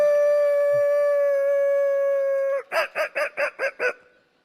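A man imitates a dog howling to call someone, holding one long, steady, tonal howl before breaking into six quick, rhythmic yelping barks. The imitation is loud, close and alone.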